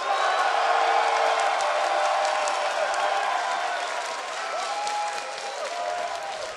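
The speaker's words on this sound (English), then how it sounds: "You can actually hear from the crowd." A crowd at an esports arena cheers for TSM during a League of Legends regional match. The roar is broad, steady and loud, with faint whistles and whoops rising above it.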